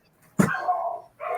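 A dog gives one sharp, nearby bark that trails into a short whine, then starts a second bark at the end, with no talking.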